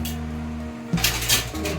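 Pots and utensils being put away at home, a low hum giving way to a few close metallic clanks and clinks of pans knocking together.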